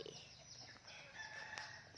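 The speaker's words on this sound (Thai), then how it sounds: "ดูไก่ดูไก่" Chickens at a Thai home with a yard full of young chicks: fairly faint crowing and clucking drifts in over a quiet background for about two seconds, with no one speaking.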